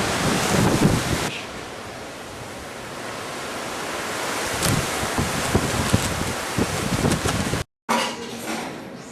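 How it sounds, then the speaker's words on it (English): Strong hurricane wind gusts from Hurricane Dolly roar steadily in a broad rushing wash, swelling and easing continuously around a close microphone with a brief dropout near the end. "That gust is probably 30, 40 miles an hour"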